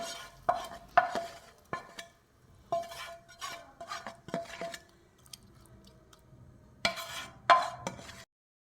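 Spiced masala is stirred into fried mushrooms in a pan, with a utensil scraping and clinking against the metal in irregular bursts and a faint sizzle underneath, close but fairly quiet.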